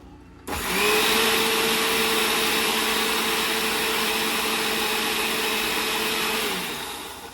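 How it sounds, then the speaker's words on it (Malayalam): A kitchen mixer grinder grinding garlic paste with oil and water, switched on abruptly and whirring steadily and loudly at close range before winding down near the end. "ഞാൻ മിക്സിയിൽ തെറിക്കണ കാരണം. അങ്ങനെ നന്നായി അരയ്ക്കുക."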